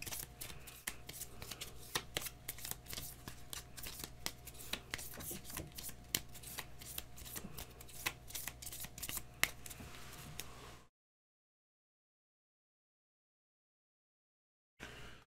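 Cards are shuffled in a rapid, crisp riffling patter for about ten seconds, close and fairly quiet, then silence and a brief final riffle.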